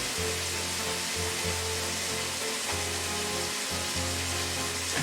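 London broil steak sears in a hot pan with a steady, dense sizzle that is close and loud and continues without a break. There is no talking.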